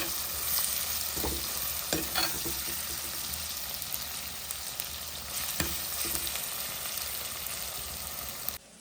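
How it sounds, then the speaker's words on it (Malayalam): Vegetables sautéing in a pan, a continuous moderate sizzle broken by several stirring scrapes and knocks, close and unaccompanied by speech. "ഇത് നമ്മൾ വഴറ്റാൻ വേണ്ടി വെച്ചിട്ടുള്ളതിൻ്റെ സംഭവങ്ങളൊക്കെ നന്നായിട്ട് വഴന്ന് തുടങ്ങിയിട്ടുണ്ട്"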